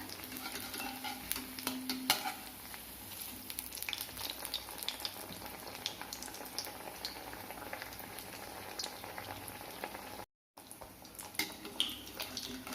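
Rava and potato tea-time snack frying in a pan on medium flame, a steady close sizzle with occasional bubbling pops and faint utensil clicks, continuous throughout with no talk and one brief dropout near the end.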